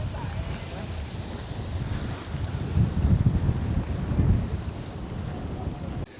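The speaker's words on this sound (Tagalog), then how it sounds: "mahangin po dito" Steady wind roaring and buffeting the microphone, a dense low rumble that swells briefly midway, as if outdoors near open water.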